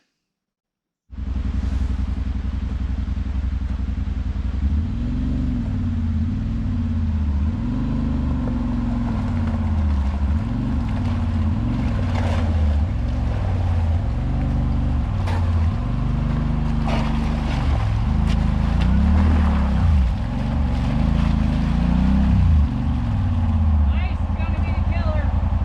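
A Turbo Pioneer 500 UTV on Carnivore tires plows through icy water, its engine a steady, loud rumble that rises and falls with revving for about twenty-five seconds after a brief silent start.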